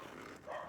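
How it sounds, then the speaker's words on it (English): Dogs barking at close range during a stop on a motorbike ride home, a short burst of barks that grows louder near the end. "And the dogs are saying hello."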